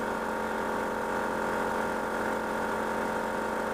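A DR Air Pro Flow 12V air compressor pumps steadily, giving a continuous, even motor drone with a buzzing hum that stays constant throughout, close up and with no talking.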